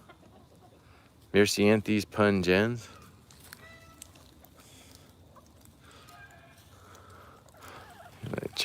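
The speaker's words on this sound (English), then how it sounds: "The chickens are hungry." Hungry chickens cluck faintly in the background of an outdoor garden, soft and intermittent beneath a brief stretch of nearby speech.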